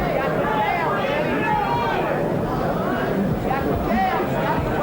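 Arena crowd at a heavyweight boxing tournament at Madison Square Garden, featuring Michael Dokes against Danny Sutton, a dense steady murmur of chatter and babble heard throughout at close range.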